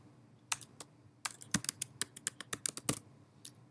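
Someone types quickly on a computer keyboard on a Mac, producing a steady run of crisp, fairly quiet keystrokes that cluster into short bursts with no talking over them.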